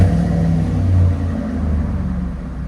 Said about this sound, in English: Flowmaster 40 duals on Dodge Dakota 98 RT.